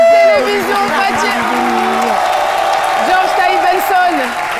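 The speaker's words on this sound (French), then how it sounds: "Applaudissements pour Télévision Fatché." A studio audience on a midday television show applauds and cheers in a loud, continuous wash, with voices and whoops rising over the clapping.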